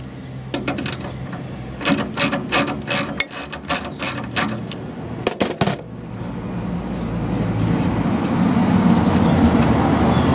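A ratchet with a half-inch socket clicks on the front shock absorber bolts of an MGA 1600 under restoration, giving rapid bursts of loud, close mechanical ticking. The ticking then gives way to a rising, steady rumble.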